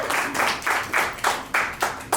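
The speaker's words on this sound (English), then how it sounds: "So, round of applause for that." A crowd claps in bursts of applause, the loud clapping rising and falling in roughly half-second waves with no voices over it.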